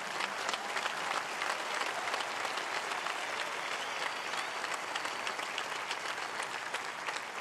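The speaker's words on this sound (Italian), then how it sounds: "Un applauso a 50 anni." A large crowd at a papal meeting with the Neocatechumenal Way applauds for its 50th anniversary, a continuous, even wash of many hands clapping, distant and moderately quiet, with no voices standing out.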